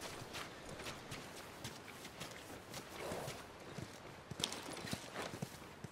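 Horse hooves in The Last of Us clip-clop at a walking pace, quiet and fairly distant, with steady irregular footfalls continuing throughout.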